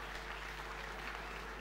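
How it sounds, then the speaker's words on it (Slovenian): An audience at the Miss Sport Slovenia pageant gives the jury a round of applause, heard as a soft, fairly distant patter of clapping over a steady low hum. "En aplavz za žirijo"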